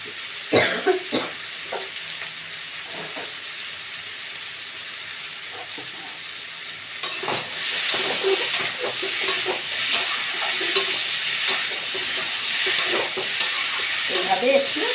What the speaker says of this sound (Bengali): এইভাবে একটু 5 ফোড়ন দিয়ে লবণ, হলুদ, কাঁচা লঙ্কা, একটু শুকনো লঙ্কা একটা দিয়ে আমি ওই কষে নিচ্ছি।